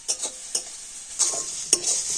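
Grated carrots frying in ghee as a spoon stirs them, giving a soft steady sizzle broken by several sharp scraping strokes against the pan, close and alone.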